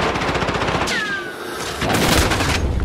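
Rapid P90 submachine gun fire in a shooter game, dense and loud, broken briefly by a whooshing effect before the burst resumes; no talking.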